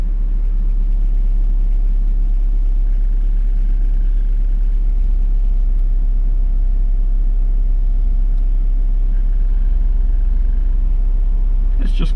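A Nissan car engine running steadily under the hood, with its RPM raised above idle, gives off a constant low rumble with a faint tonal hum and no clear change in pitch.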